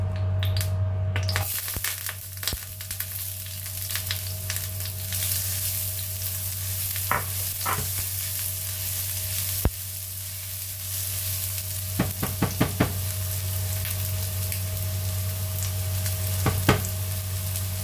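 Cooking oil sizzles in a pan on an electric stove, a constant hissing fry with a steady hum beneath and a few sharp clinks and stirring taps scattered through.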